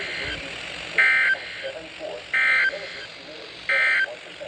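A Midland WR100 NOAA weather radio plays EAS header tones during a required weekly test on WXJ22: three loud, identical electronic data bursts, each about a third of a second, spaced evenly, with quieter noise between.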